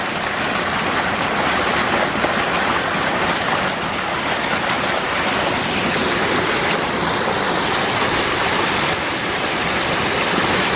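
A waterfall on a hiking trail along the Ozark Highlands Trail pours in a steady, loud, broadband rush that holds unbroken from start to finish with no voices over it.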